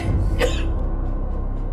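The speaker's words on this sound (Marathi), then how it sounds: "एकदम मंद, खोल, वृद्ध माणसाचा खोकलण्याचा आवाज आला" An old man gives a single deep, rough cough close by, followed by a low rumbling background hum.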